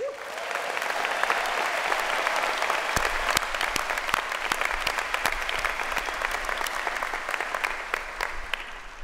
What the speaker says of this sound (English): a big round of applause and congratulations to all the graduates